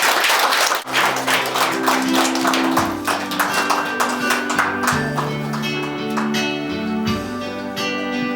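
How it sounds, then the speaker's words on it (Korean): Clapping welcomes a speaker at an elementary school alumni year-end reunion, steady applause running throughout over sustained electronic keyboard music. "박수로 환영해 주시오"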